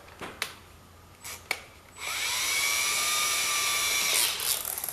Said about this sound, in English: I'm just gonna use a normal drill.